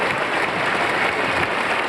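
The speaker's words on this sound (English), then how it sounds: "Getting a big round of applause from our fans here this evening." Fans at a 1993 national Uechi-ryu karate black belt championship give a big round of applause after a board-breaking demonstration, a loud, dense, continuous patter of clapping from a crowd nearby.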